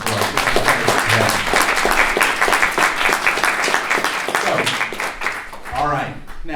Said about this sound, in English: So one more round of applause for our pitches.